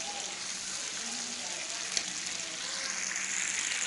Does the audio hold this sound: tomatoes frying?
yes